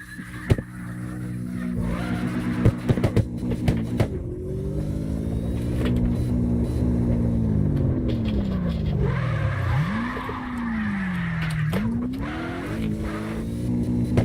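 In the CarX Drift Racing video game, a truck engine drones and revs through a long drift, the pitch sliding down and swooping back up, with tire squeal and sharp clicks mixed in and faint talk underneath.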